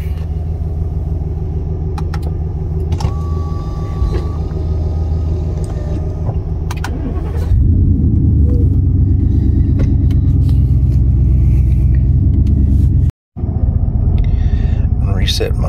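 A Ford F150 truck with a 5.0 V8 running on E85 fires up and settles into a loud, steady rumbling idle, heard up close after a stretch of quieter background noise.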